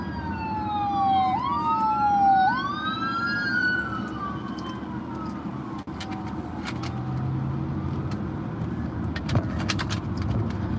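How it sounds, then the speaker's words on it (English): Wailing ambulance sirens sweep up and down in pitch, loud at first and gradually fading under a steady rumble of road traffic. "I do know there's ambulances coming up behind me."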